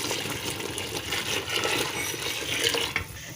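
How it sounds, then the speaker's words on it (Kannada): Five litres of water with turmeric powder boils in a pot for tomato bath, giving a continuous, busy bubbling and hissing with small irregular pops, fairly close and steady with no voices. "ನೋಡಿ ಇವಾಗ ಇದು ಕುದೀತಾ ಇದೆ"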